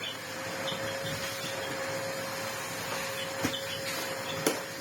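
A vacuum cleaner with an automatic brush head runs over carpet in a steady, droning whine with a constant tonal hum. A couple of brief knocks sound near the end.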